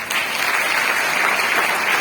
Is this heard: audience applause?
yes